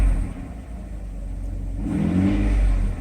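A Mercedes S600 engine on a cold start outdoors on a warm day, running steadily with a low rumble and then rising in a smooth rev before holding at a higher pitch, close and fairly loud.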